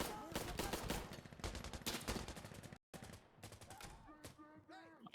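Rapid automatic gunfire in the video game Insurgency Sandstorm, dense bursts of shots for nearly three seconds, a brief gap, then scattered single shots, loud and close.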